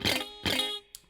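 Two quick muted guitar strums with the fretting fingers lifted slightly off the strings, each a short damped chord, followed by a brief faint scratch.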